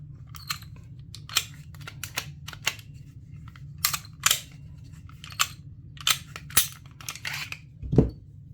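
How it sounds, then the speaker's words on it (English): A PSA Dagger pistol is taken apart, giving sharp metallic clicks and snaps at irregular intervals. Each one is close and crisp over a low background hum, with a louder clack near the end. "So let's go ahead and take it apart now."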